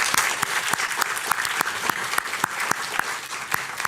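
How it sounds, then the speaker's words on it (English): An audience in a meeting room claps steadily after presentations, a sustained wash of applause with distinct sharp claps scattered through, fairly close and unbroken. "let's give them a big round of applause"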